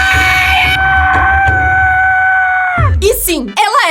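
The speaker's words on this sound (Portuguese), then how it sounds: "O grito mais alto do mundo foi a palavra silêncio." A woman screams loudly in one long, piercing, sustained shriek held near and steady, then it breaks off into a short burst of laughter and shouting.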